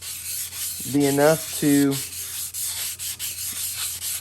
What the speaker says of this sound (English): we're just gonna give a little light sanding here